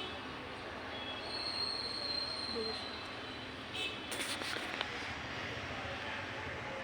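A train rumbles along rails at a railway station with a high squeal of wheels and a few metallic clicks, heard from a short distance at moderate loudness.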